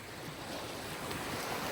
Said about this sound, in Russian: Ощути, как шум воды наполняет твою энергоструктуру.